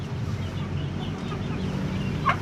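A sick hen being treated for coughing and laboured breathing makes faint, low clucks against a steady background hum, with one brief higher squawk near the end.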